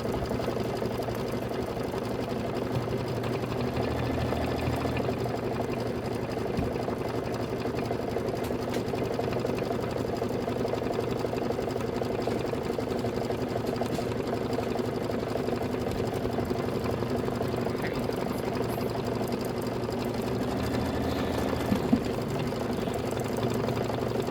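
An embroidery machine stitches out a satin stitch with a steady, continuous mechanical whir and fine rapid needle chatter, running alone without interruption, with a small knock near the end.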